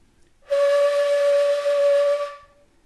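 Shakuhachi bamboo flute blown with a rough inside-blowing technique: a single sustained breathy tone of about two seconds, steady and close, with strong air hiss over the pitch and a clean start and stop.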